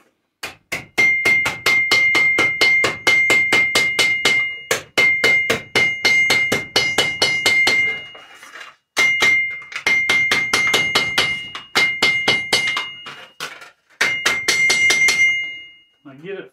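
Rapid metallic hammer blows flatten a tin-can flange on an anvil, ringing loud and close in several fast bursts separated by short pauses.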